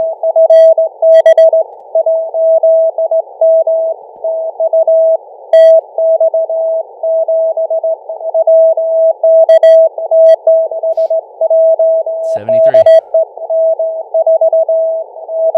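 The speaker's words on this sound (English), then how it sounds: "let's go back to FT8 noises commencing" Steady digital-mode radio tones from a Hermes Lite 2 software-defined radio decoding FT8, a continuous warbling tone held throughout with brief interruptions and a short downward chirp near the end, loud and alone.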